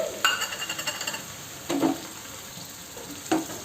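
Tomatoes are stirred into corn curry in a pan, a soft rhythmic series of scrapes and light clinks followed by two separate stirring strokes with a faint sizzle.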